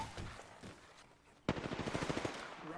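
Gunfire in a video game: a quiet stretch of faint noise, then a sudden loud burst of rapid automatic shots rattling in quick succession.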